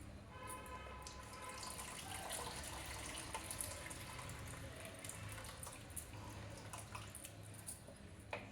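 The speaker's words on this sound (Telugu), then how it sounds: "ఇప్పుడు రసం చింతపండు రసం వేసేస్తానండి" Tamarind juice pours into a pot of simmering oil-laced stew in a home kitchen, a steady liquid splashing and trickling that runs unbroken for several seconds, close and moderately loud.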